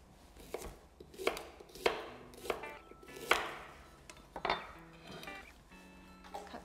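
A knife cutting through a piece of ginger on a board, about eight distinct chops at an uneven pace, each a sharp thunk with slight ringing, clear and fairly quiet.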